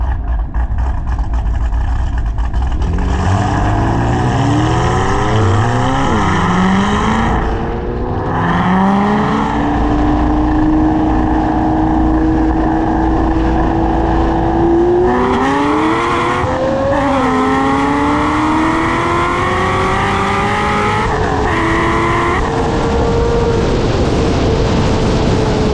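An 850 whp Corvette C6 Z06 on R888 tires roars through a roll race, a loud sustained engine climbing in pitch through several gear changes, close and powerful throughout.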